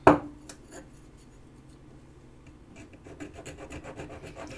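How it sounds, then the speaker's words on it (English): A hand file rasps across a small metal piece before a final bend, opening with one sharp scrape, then quieter strokes building into a steady run of rhythmic filing, close up with no talk. "I'm gonna go ahead and file that now before I make this final bend"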